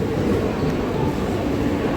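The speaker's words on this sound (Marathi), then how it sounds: "आता मी बसतो राहू ट्रेनमध्ये." A local train in Mumbai rumbles steadily from inside the carriage, a dense continuous roar without distinct clacks, loud and close.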